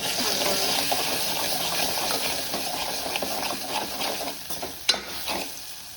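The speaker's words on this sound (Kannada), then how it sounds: "ಇದೆಲ್ಲ ಇವಾಗ ಮಿಕ್ಸ್ ಮಾಡ್ಕೊಳ್ಳೋಣ." Sambar powder and salt stirred in a hot pan, a soft continuous sizzle with scraping stir strokes close up, ending in a few sharp clinks of the spoon against the pan, with no talk.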